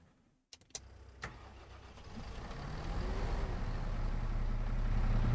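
A Massey Ferguson tractor in Farming Simulator 25 starts up with a few sharp clicks and a crank, then its engine builds into a steady, rising rumble that grows louder toward the end.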